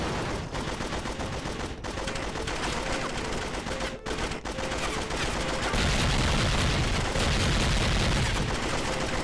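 Weapon fire rattles in dense rapid bursts during a mission of the video game Night of the Jackal: Agent Under Fire, loud and near, with brief gaps between volleys.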